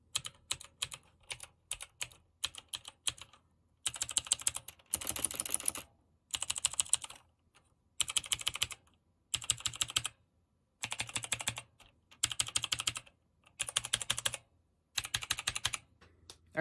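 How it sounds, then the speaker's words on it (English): Bursts of rapid clicky key presses on a CHONCHOW gaming keyboard come in short rhythmic flurries separated by brief silences, close and crisp with no talking. "I'm going to show you how it is to type on it and how it sounds"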